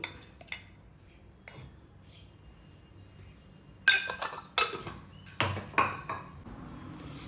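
A spoon clinks against a bowl while potato fry is tossed with salt, turmeric and coriander powder: a few sparse metallic taps, then a quick cluster of sharper, louder clinks close by.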